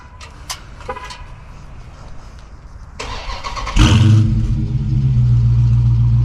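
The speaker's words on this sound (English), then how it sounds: "the dual exhaust, which we can take a listen to" Chrysler 300C with dual exhaust: a few clicks and a short horn-like chirp, then the engine cranks and fires into a loud rev that settles to a steady, strong idle, close to the microphone.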